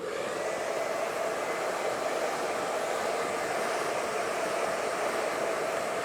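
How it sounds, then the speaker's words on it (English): A hair dryer on medium heat and medium speed blows steadily while styling layered hair, a constant airy whoosh, close and even, with no voices. "I'm going to use a nice medium heat, medium speed, just to manipulate the hair a little bit, and then we'll blow dry smooth"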